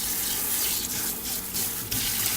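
Warm tap water runs steadily from a faucet into a sink or tub for a puppy's first bath, a continuous close splashing rush with small fluctuations and no talking.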